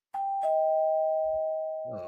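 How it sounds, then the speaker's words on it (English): A doorbell rings once with a sustained electronic tone that holds steady for about a second and a half before a voice cuts in. "Oh, another doorbell."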